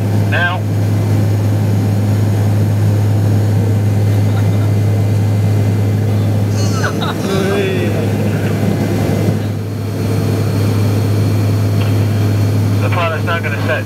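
Propeller aircraft in flight during a flight test maneuver, a steady loud engine and propeller drone with a strong low hum running throughout, with voices talking over it.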